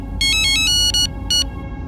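A mobile phone rings with a bright electronic melody, short tonal bursts in a broken rhythm, loud and close over a low background hum.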